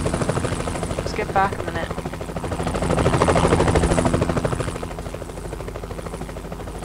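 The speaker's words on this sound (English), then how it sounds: "Guys, there's a chopper! Watch out for the choppers, they're packing heavy heat!" A helicopter in the video game Devastation gives a continuous rotor thrum and buzz that swells louder midway and then eases off. Someone talks over it briefly.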